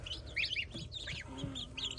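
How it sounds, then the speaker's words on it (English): A young duck among newly arrived straight-run hatchery chicks gives a string of high, quick peeps and chirps against a steady background hum, fairly close and moderately loud. "I wonder what kind of duck you are"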